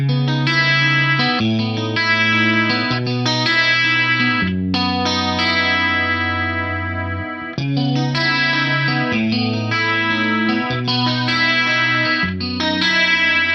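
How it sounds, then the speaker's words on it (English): A synth plays sustained chords through a Dimension 2 chorus mode layered with pitch detune, giving a wide, shimmering chorus and detuned wobble, steady and loud, with no voices. "I'll bring up the Dimension 2 chorus mode on here, and then what I'm going to do is layer the detune on top of that"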